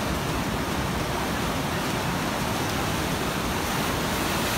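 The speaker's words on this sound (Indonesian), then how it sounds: "karena lihat ombak yang dari sana itu gede banget" Big ocean waves crash and surge at a cave beach at Catherine Hill Bay, forming a dense, continuous roar of surf that stays loud and broad from start to finish with no voices.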